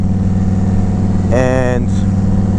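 A Yamaha Road Star 1700 Silverado motorcycle engine runs steadily up close with a low, even drone, while a voice talks over it briefly in the middle.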